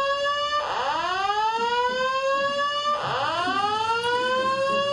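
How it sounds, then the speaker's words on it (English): A building fire alarm sweeps in repeating electronic whoops, each tone rising in pitch, steady and loud in an indoor space, with no voices over it. "The building fire alarm has been activated."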